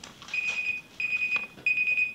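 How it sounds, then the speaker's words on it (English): Electronic alarm used to prompt a camera reset, three evenly spaced bursts of rapid high-pitched beeping, close and clear, with faint background rustle between them. "That would be the alarm to reset this camera or check on it"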